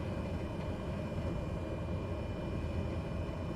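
A Cessna Caravan turboprop taxiing onto the runway in Microsoft Flight Simulator gives a steady, continuous low engine drone with a faint high whine, unbroken and alone.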